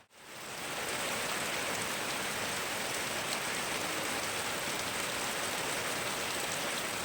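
Steady, dense rain pours down outdoors on a cold day, a constant close hiss of drops on surfaces with no pause and no voices.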